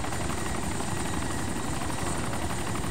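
A helicopter in the survival game DayZ Origins drones steadily with a close, continuous rotor and engine roar, no voices over it.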